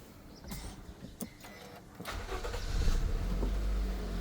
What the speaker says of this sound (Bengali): আমরা একটু গাড়ির ইঞ্জিনের সাউন্ড একটু দেখে আসি,